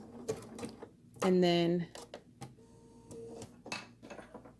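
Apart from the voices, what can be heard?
sewing machine stitching applique fabric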